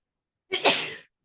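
One short, sharp sneeze rings out in a quiet courtroom, a quick breathy burst that is close and fairly loud, with silence on either side.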